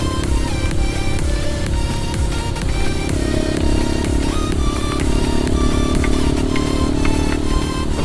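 Heavy rain pours during a night motorcycle ride from Bogor to Sukabumi, a dense constant wash of noise mixed with the engine's steady drone and wind, loud and unbroken throughout.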